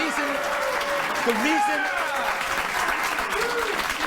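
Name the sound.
studio audience applause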